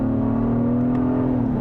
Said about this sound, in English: You have to wait for the engine to rev, but man, is that a good noise.